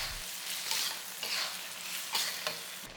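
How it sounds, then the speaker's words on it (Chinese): Braised chicken and bitter gourd in sauce sizzle in a wok while a spatula scrapes and tosses them in quick, repeated strokes, close and with no one talking. "现在我们就把味道炒均匀，然后再收一收汁了"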